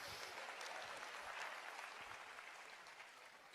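An audience claps steadily at a live Gujarati folk talk program, a dense wash of applause holding loud throughout before easing slightly toward the end.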